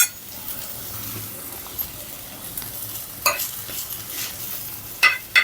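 Sweet potato ghevar batter fries in hot ghee with a soft, steady sizzle and hiss, punctuated by a few faint clinks of utensils near the end.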